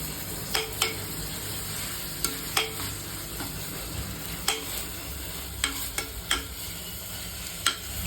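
Tomatoes being stirred in a frying pan, the spoon scraping the pan in sharp, irregular clicks over a steady sizzle, close and alone with no talk.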